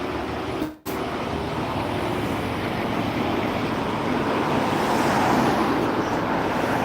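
A Scania lorry rolls past on a road, a steady rumbling roar of tyres and engine that stays loud throughout and swells slightly toward the end, after a brief dropout early on.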